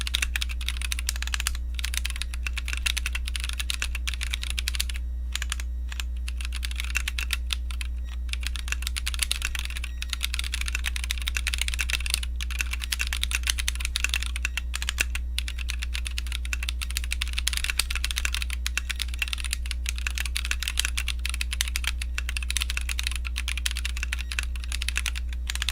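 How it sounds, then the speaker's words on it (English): A newly built mechanical keyboard being typed on steadily, crisp close keystrokes clacking in fast irregular bursts with brief pauses, over a faint constant low hum and no voices. "the first thing that I'm liking about this keyboard is the sound."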